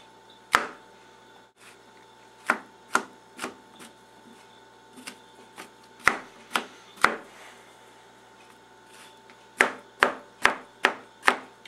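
Knife dicing mushrooms on a cutting board, a series of crisp, close chops in uneven clusters with short pauses, quiet background between strokes.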